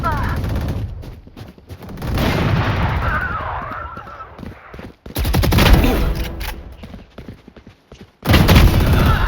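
Odin machine gun firing in the Valorant video game, loud rapid sustained bursts in several separate volleys, with a player talking over the gunfire.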